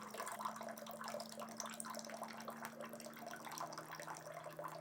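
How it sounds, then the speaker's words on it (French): A Waterdrop K19-H water purifier dispenses hot water set to 85 degrees in a faint, steady trickling stream that runs without a break. "il nous sort de l'eau chaude de manière instantanée"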